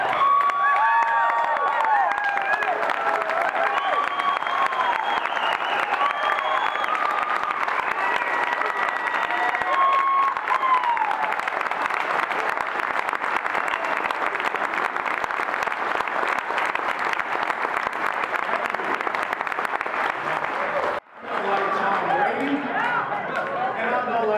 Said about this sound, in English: every person in this room stood up and applauded